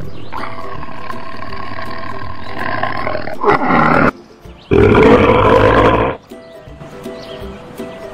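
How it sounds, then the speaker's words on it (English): A tiger roars in several loud, close bursts, one long roar, a short pause, then another powerful roar, followed by quieter grunting and rumbling. "Tiger."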